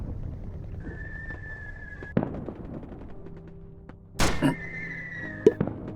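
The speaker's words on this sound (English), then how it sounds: "Artillery shells maybe don't hurt you." Artillery shells land in the roguelike video game Daikon Hero, producing a few sharp, loud thumping impacts spread over several seconds among quieter synthetic game tones and tonal whistles.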